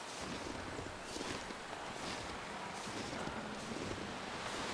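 Wind blowing in the snowy survival video game The Long Dark: a steady, roaring broadband rush with slight swells in strength, with no voices.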